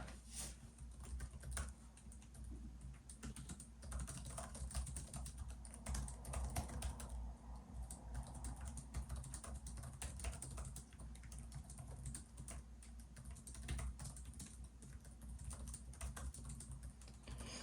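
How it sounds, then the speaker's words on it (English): Fast typing on the low-profile, short-travel laptop keyboard of a Zephyrus G14 or Razer Blade 14, a quiet, continuous patter of soft key clicks at close range with no voices. "So the keyboard here, I'll just give a quick typing test."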